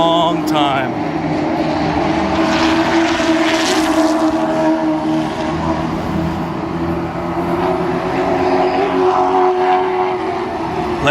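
Late model race cars at a short-track race roar continuously on the track, a loud steady engine drone with layered overlapping tones and no gaps, heard at a distance.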